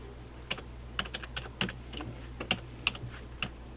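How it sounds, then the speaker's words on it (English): Light, irregular keystrokes on a computer keyboard, a dozen or so quiet clicks tapped out close by in a quiet room with a faint background hum. "I'll just type in Google Maps as a search"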